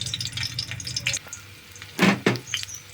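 Four or five garlic cloves and fenugreek seeds sizzling in hot tempering oil, close crackling with a couple of sharp louder bursts of spattering near the end.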